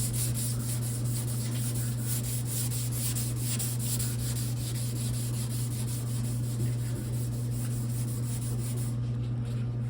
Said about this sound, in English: You want to sand it until the black disappears and you have nice smooth gray, in this case gray, primer left.